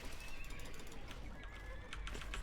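Horses neighing and whinnying in a video game, set amid a busy, continuous game soundscape with broadband noise and scattered high clicks, the whinnies rising briefly over the clutter without any speech.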